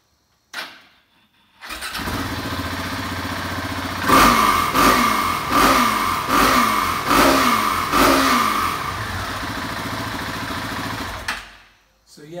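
A Husqvarna 701 Enduro single-cylinder motorcycle cranks and fires up, then is blipped through five or six sharp revs that rise and fall before settling to a steady idle, loud and close.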